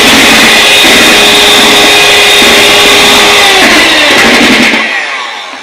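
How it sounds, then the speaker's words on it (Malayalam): An electric beater running on its first speed mixes oil into cake batter, a loud continuous whirring hum that holds steady, then trails off as it is switched off near the end. "ജസ്റ്റ് ഫസ്റ്റ് സ്പീഡിലിട്ട് ജസ്റ്റ് ഒന്ന് ഓയിൽ ആ ബാറ്ററിലേക്ക് മിക്സ് ചെയ്യാൻ മാത്രം മതി."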